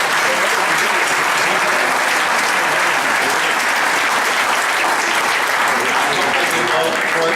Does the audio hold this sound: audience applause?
yes